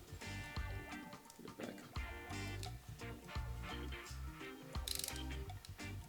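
A ratchet wrench loosening a bolt on a motorcycle derby cover, giving rapid clicking pawl bursts in short repeated strokes, close but quiet, with some metallic clatter between them.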